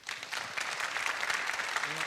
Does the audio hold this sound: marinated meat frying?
no